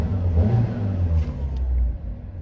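A Fiat Panda 4x4 engine idles steadily just after starting, a close, low rumbling drone with slight rises in pitch and no voices.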